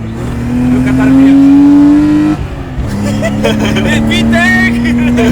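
BMW E30 engine revving hard as the car accelerates, a loud rising drone that drops at a gear change and climbs again, recorded from inside with voices mixed in.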